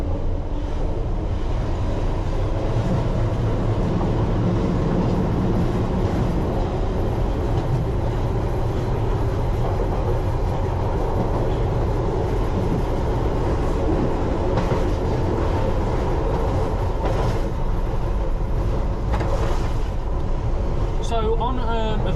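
A London Underground Piccadilly line train running, heard from the driver's cab: a steady loud rumble of wheels and motors with rattling carriage noise and occasional clicks, continuous throughout.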